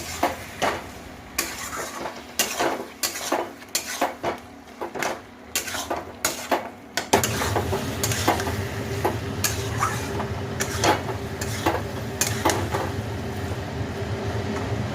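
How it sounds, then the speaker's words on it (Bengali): Tomato paste and blended tomato with a splash of water stirred and sautéed in a pan, a close metal spoon clinking and scraping in irregular strokes, then a steady loud sizzle taking over partway through. "টমেটো পেস্ট দিয়ে টমেটো যে বেটেছিলাম মিক্সির বাটিটার মধ্যে, ওটাও একটু জল দিয়ে ভালো করে কষিয়ে নিচ্ছি"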